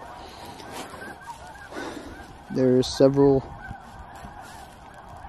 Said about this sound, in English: I'm learning snow geese are just going to be snow geese